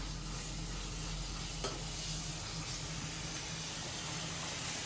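Masala paste for paneer curry fries in oil, a faint, steady sizzle with occasional soft stirring scrapes, close and continuous with no talking.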